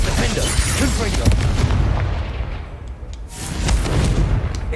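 Spell explosions from a Harry Potter video game, a run of dense booming blasts and crackling bursts that swell, ease off briefly, then build again, with some talk underneath.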